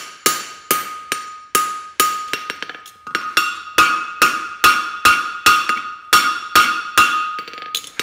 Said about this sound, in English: A bit of cold forging,